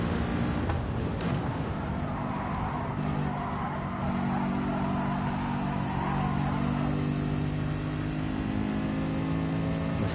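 Race car engines from Gran Turismo Sport drone and rev steadily throughout, a dense continuous roar at constant loudness with no pauses.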